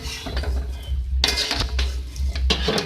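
Vinegar being mixed into a white sauce in a bowl, a spoon clinking and scraping loudly against the bowl in quick bursts with a brief pause midway, close by and without talk.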